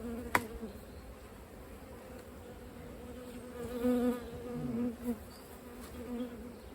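Honey bees buzz steadily around supers lifted from a hive during a spring honey harvest, a dense close drone that swells louder a few times with a single sharp knock near the start.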